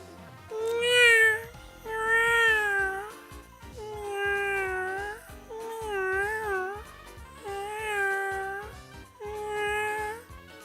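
A human voice imitates a cat, giving six drawn-out, wavering meows one after another, each loud and close with short pauses between, and no other sound behind them.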